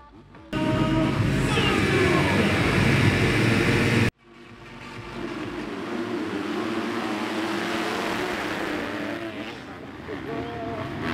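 SX2-class supercross motorcycles roar loudly at the start gate of an outdoor SX Tour round in Brienon, France, a sustained dense engine blare that cuts off abruptly and then swells again with a more distant, building engine drone.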